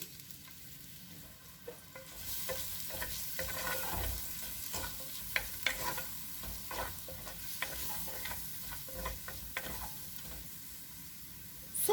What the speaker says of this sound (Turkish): Bir tane de küçük küçük doğradığım kuru soğanı katıyorum.